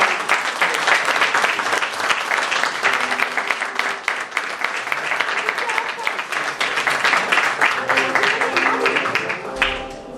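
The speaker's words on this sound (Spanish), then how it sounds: "Un fort aplaudiment i moltes gràcies" A large crowd applauds loudly and steadily for the full length at a Valencian Fallas ceremony, dense clapping with a brief swell near the end.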